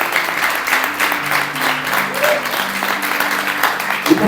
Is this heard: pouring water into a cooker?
no